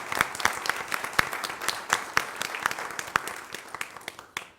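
An audience at a recognition meeting claps for high school cadets, a modest round of distinct, moderately quiet handclaps that thins out and fades away at the end.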